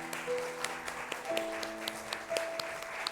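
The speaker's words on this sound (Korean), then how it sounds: "우리 선물을 받으실 때 큰 박수로 더 힘내시라고 우리 같이" Applause from a Korean church congregation during a Sunday morning service as newly ordained deaconesses receive gifts, a soft wash of clapping under sustained instrumental tones with a few sharper claps standing out.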